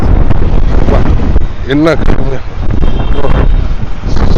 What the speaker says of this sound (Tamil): இந்த காற்று சத்தம் உங்களுக்கே கேட்கும்னு நினைக்கிறேன்.